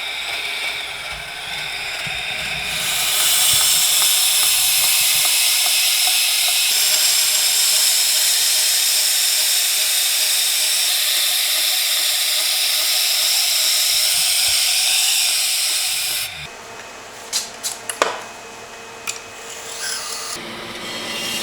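A belt grinder sharpens a forged chef knife on a slow belt, a loud sustained abrasive rasp and hiss for about fifteen seconds, then stopping into quieter scattered clicks and handling noise.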